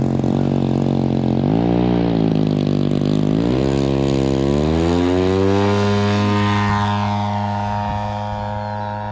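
A Great Planes Extra 300S radio-controlled aerobatic model airplane flies on a cold day, its engine a loud, steady droning buzz whose pitch dips, then climbs and shifts as the plane maneuvers, fading slightly toward the end.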